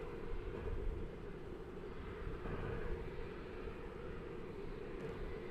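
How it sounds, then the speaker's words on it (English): American Airlines flight 1825 from Memphis on approach into DFW Airport on the east side, a steady low jet rumble that holds at even loudness throughout, broad and distant-sounding with no voices over it. "There's American Flight 1825 coming in on the east side from Memphis,"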